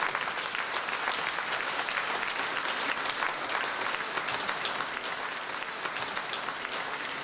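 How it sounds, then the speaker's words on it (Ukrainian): Audience applause at a gala concert, a continuous dense wall of clapping from a large crowd, steady and even in level throughout. "ваші оплески"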